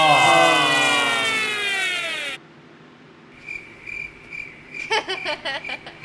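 A cricket chirping sound effect plays first as a dense, steady trill, then cuts out and gives way to sparse, rhythmic cricket chirps repeating in short pulses, with no one talking.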